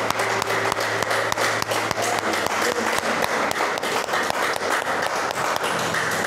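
A church congregation applauds during a sermon, loud and sustained clapping with a rhythmic, nearly unison beat of sharp hand strikes running straight through.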